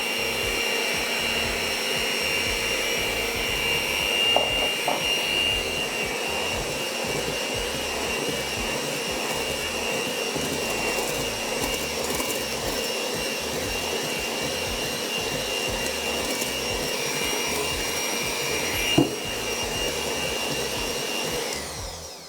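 An electric mixer beats cream cheese with cold whipping cream, a steady motor whir running without pause for a long stretch with faint clicks of beaters against the bowl.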